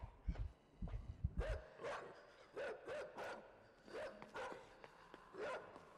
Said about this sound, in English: I hear the dogs growling.